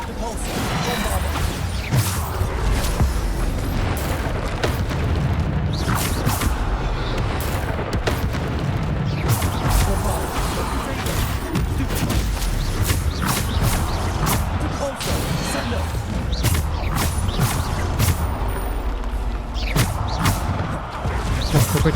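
A Bombarda spell blasts in Hogwarts Legacy amid loud, dense battle noise, with heavy booms and crashing impacts repeating throughout. Spoken voices carry on over the fighting.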